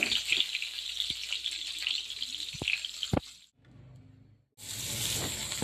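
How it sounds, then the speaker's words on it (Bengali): Potatoes fry in mustard oil with salt and turmeric, giving a bright, steady hiss with a few soft pops. The sizzle drops out for about a second, then returns just as strong, close and unaccompanied by speech. "সরিষার তেল দিয়ে আলুগুলোকে আমি একটু নুন হলুদ দিয়ে ভেজে নেব লাল লাল করে"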